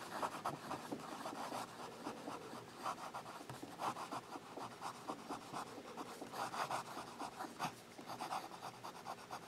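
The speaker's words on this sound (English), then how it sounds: "Now let's do some fast writing." PenBBS 266 fountain pen with a fine nib scratching quickly across paper in fast, continuous strokes, a steady close-up rasp with rhythmic bursts as letters form.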